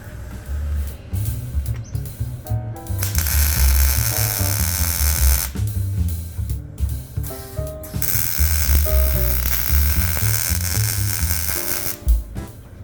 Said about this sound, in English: I'm going to go and tack this up now.